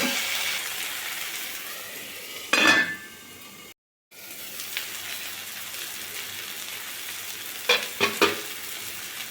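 Drumstick (sajne) greens frying in a pan, a soft steady sizzle with two bursts of scraping and clinking as the leaves are stirred, a brief silent gap in between; no talking.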